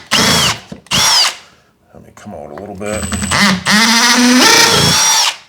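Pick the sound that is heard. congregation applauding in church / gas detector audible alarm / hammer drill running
hammer drill running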